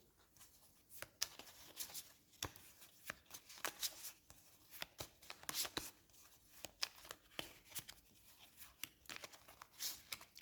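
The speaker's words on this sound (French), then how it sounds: "alors on va mélanger la défausse" A discard pile of cards from a deck-building board game is shuffled by hand, a soft close run of quick riffling flutters and taps repeating over several seconds, with no talk.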